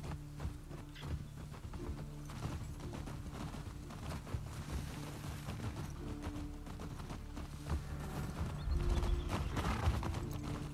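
Horse hooves clip-clop steadily through The Last of Us Part II, a near, rhythmic trot that continues for the whole stretch amid faint game ambience, occasional snorts and a heavier build toward the end.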